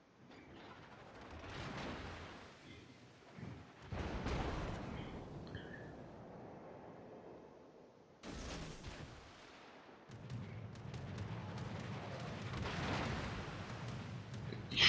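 Warship artillery in the naval combat game World of Warships: heavy booming salvos and rumbling blasts, several loud bursts separated by brief lulls, with sustained low roaring between shots and no talk.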